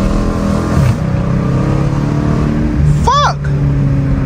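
A Dodge Challenger R/T with a 345 Hemi V8 drives through a snowstorm, its loud, steady engine drone filling the cabin throughout, with a brief shouted voice near the end.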